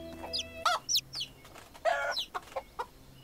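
Chickens in the medieval life-sim game Medieval Dynasty cluck nearby in a series of sharp, short bursts and a longer squawk, spaced irregularly over a quiet background hum.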